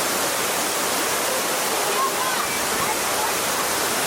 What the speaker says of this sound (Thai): สำหรับ น้ำตกร้อนตรงนี้นะครับ